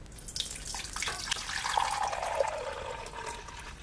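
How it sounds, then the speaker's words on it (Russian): Water poured into glass jars of stewed beef for pressure-cooker canning, a steady splashing fill rising in pitch over a few seconds, close and moderately quiet with no talk. "И заливаем водой. Воды наливаем по плечике баночки."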